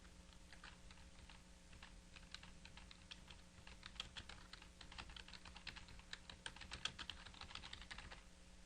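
Typing a document title on a computer keyboard, a steady, fast stream of soft, close key clicks over low electrical hum, with no voices.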